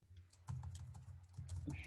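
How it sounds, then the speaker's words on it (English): Quick taps on a computer keyboard in an office conversation, soft clicks in irregular bursts with a low voice talking under them. "I'm typing up what you just said."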